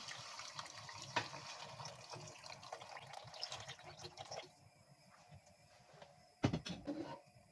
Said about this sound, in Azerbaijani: Artıq biraz su əlavə edirəm.